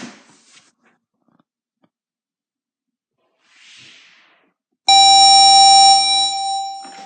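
After a few quiet seconds with faint stray noises, a ship's general emergency alarm, a loud, steady electronic tone with a rich, buzzing timbre, blares and holds to the end.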